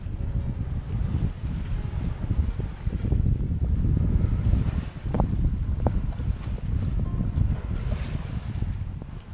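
A cruising sailboat heading to Alcudia and Pollença sails close-hauled in a 12-knot wind, its sails trimmed on the main and genoa. Steady wind buffets the microphone, with faint water rush and a few sharp creaks or clicks from the rigging.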